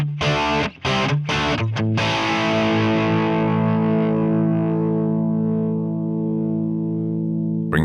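Heavily distorted electric guitar through the Amplitube 5 amp simulator, with the virtual mics moved closer to the speaker cone: a few choppy chugs, then a loud sustained chord ringing out and slowly fading, close and alone.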